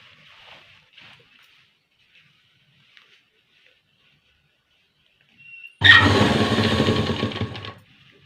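A sewing machine stitching a round petticoat runs in one loud, steady whirring burst of about two seconds near the end, after quiet handling of the cloth.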